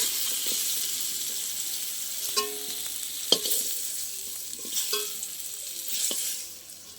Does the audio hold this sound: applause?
no